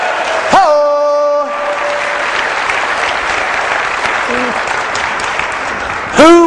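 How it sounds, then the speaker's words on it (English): Audience applause for Lupita at a public-speaking event, a broad, steady burst of clapping that sustains for several seconds while a voice sounds briefly at the start and end. "Can we have a big round of applause for Lupita?"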